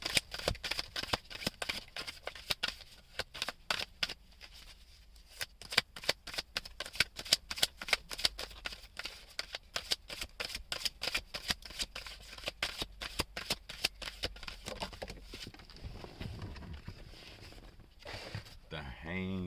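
Tarot cards being shuffled for one more draw, a fast run of crisp riffling flicks repeating close up over a long stretch, with softer handling and a voice near the end.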